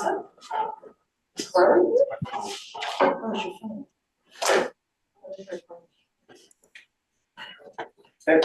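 A dog barks in short, sharp bursts, some close and loud, with whimpering and snuffling between them and people talking nearby.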